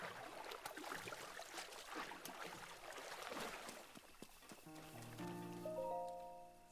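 Steady rain pattering in Zelda: Breath of the Wild, a dense continuous patter heard alone, with sustained musical tones from the game rising over it near the end.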